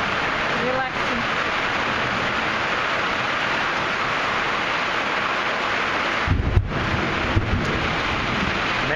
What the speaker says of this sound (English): Alright, I think it's raining out